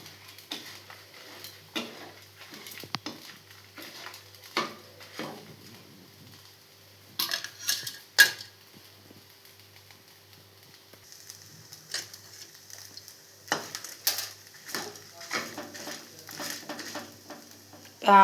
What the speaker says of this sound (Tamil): தேங்காய் எவ்வளோ நல்லா சிம்மில் வச்சு நல்லா வாசம் வர வரைக்கும் வறுத்துக்கிறணும்